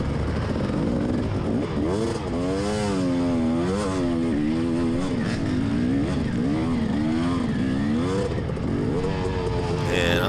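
An off-road vehicle's engine roars and revs continuously as its tires spin in mud, failing to climb a steep, crowded hill, loud and close throughout.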